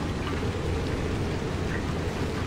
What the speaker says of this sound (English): Oh wow, that's really loud rain.